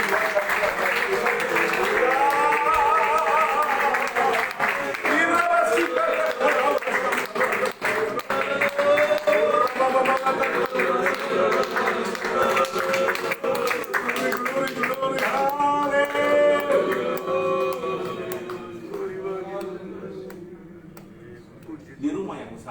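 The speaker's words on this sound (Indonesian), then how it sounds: "Mari bersama kita beri tepuk tangan mempermuliakan Tuhan." A church congregation claps in praise to God, steady rhythmic clapping running under loud singing and voices that carry throughout, fading toward the end.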